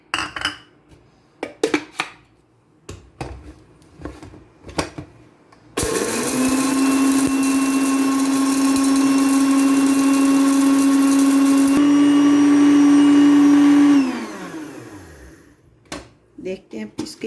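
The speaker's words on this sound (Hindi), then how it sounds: "ये मूंग की दाल को ग्राइंड करेंगे" Moong dal ground in an electric kitchen grinder. Brief knocks and handling come first, then the motor roars loud and steady for about eight seconds, shifts tone midway and winds down, followed by more clatter.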